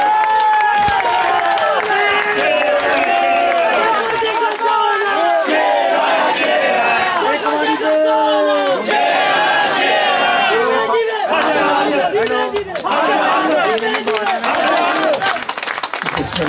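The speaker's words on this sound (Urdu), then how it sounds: "بھرپور تالیوں میں استقبال کیا" A crowd at a union council political gathering claps and cheers loudly to welcome Khawaja Muhammad Asif to speak, sustained applause mixed with shouted slogans and voices throughout.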